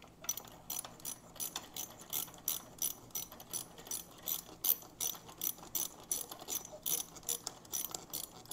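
A ratchet tightens nuts on the carburetor studs of a Venom SS3 KP mini 150 bike during a Nibbi 26mm carburetor upgrade. Close, crisp bursts of rapid clicking repeat in a steady back-and-forth rhythm.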